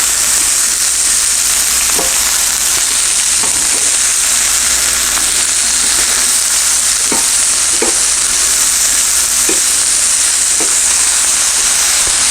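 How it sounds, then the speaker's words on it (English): Pepper steak and vegetables stir-fried at the highest heat, a loud roaring hiss of frying that runs throughout, with periodic ticks and scrapes of stirring. "Stirring, stirring, and stirring."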